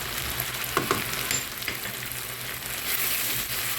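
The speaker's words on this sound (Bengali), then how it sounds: "মশলা দিয়ে টমেটোর সাথে পেঁয়াজের সাথে ভালো করে কষিয়ে নিব" Spices, chopped tomato and onion fry together in a pan for achari dal, a steady close sizzle with a few light stirring scrapes early on, no talk.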